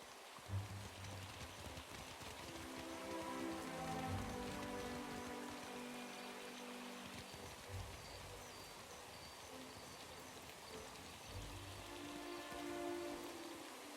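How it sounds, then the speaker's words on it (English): Steady rain in Pillars of Eternity 2: Deadfire hisses across the whole stretch at an even loudness, with low game music and ambient tones underneath and no voices. "Rains a lot here."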